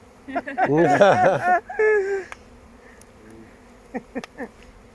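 Honeybees buzz around an open hive at a bee school in Scotland, a steady insect drone running beneath and between nearby voices talking.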